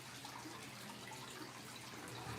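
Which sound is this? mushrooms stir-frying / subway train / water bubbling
water bubbling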